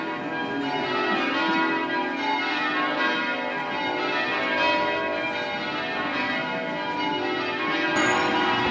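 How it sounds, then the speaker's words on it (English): Church bells ring out on a Sunday morning in Ludlow, a continuous wash of overlapping chimes that fills the whole stretch at an even level, with no voices heard. "it's always a bonus to hear the church bells on a Sunday morning"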